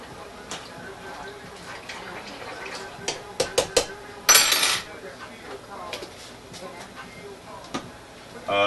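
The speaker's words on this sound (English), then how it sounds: "Stir them up good." Black-eyed peas are stirred in a pot with a metal spoon, making a scatter of sharp clinks and scrapes against the sides and one longer rattle midway, under soft background talk.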